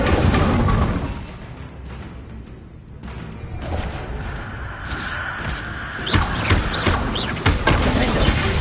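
A fire spell is cast in the Hogwarts Legacy game, with loud crashing, thudding impacts and a roaring burst of broadband noise that dips briefly, then surges again with sharp hits near the end.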